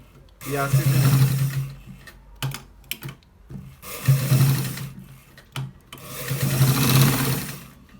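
A sewing machine stitches a collar shirt in three loud bursts of steady whirring, separated by short pauses with brief clicks.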